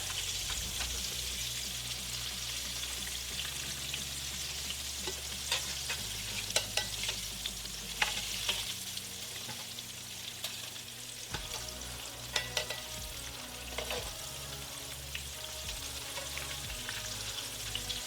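Breaded green tomatoes fry in a pan with a continuous close sizzle and crackle, broken by scattered small pops and spatters.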